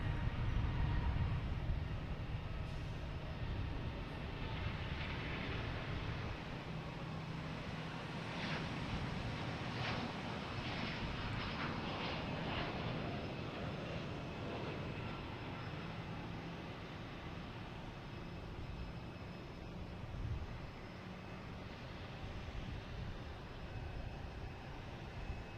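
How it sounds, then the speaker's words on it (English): Condor Airbus A330-900 departing Boston Logan for Frankfurt, a distant, faint, steady jet rumble blending with wind noise and low background drone, sustained with no talking. "we have a Condor heading back to Frankfurt"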